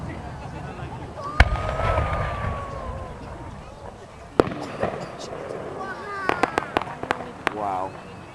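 Fourth of July fireworks over Perry Park, Colorado, with several sharp booms and a quick run of crackling pops at a distance, while people talk and react nearby.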